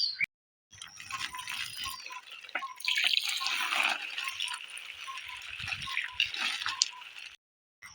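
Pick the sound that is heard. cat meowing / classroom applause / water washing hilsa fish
water washing hilsa fish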